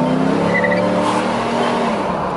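Pininfarina convertible Cadillac engine on a test drive, a steady close engine hum with rising tone as it pulls, road and wind noise around it.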